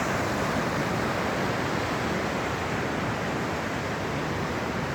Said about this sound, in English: The river here is just spectacular.